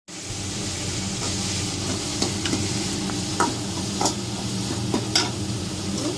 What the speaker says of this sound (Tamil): தக்காளி வெங்கா வெங்காயம் பூண்டு இஞ்சி பச்சை மிளகாய் இது எல்லாத்தையும் வதக்கிக்கணும்